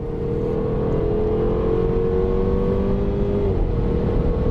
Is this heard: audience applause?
no